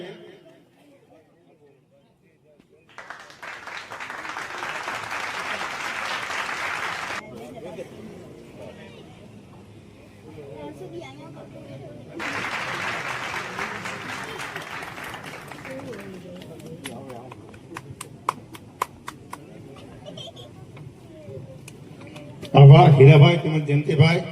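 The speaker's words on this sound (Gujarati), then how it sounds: "આ ટ્રસ્ટીશ્રીઓનો ઉત્સાહ વધારવા માટે તાળીઓના ગડગડાટથી આ સન્માનને વધાવીએ" An audience at an honouring ceremony for trustees claps in two long bursts of applause, moderately loud and spread across the hall, with speech over a loudspeaker and a brief loud noise near the end.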